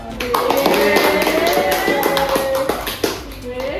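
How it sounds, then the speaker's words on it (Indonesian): A small group claps for the team at a business presentation, quick irregular hand claps under and between upbeat talk in Indonesian. "Tepuk tangan buat tim kita."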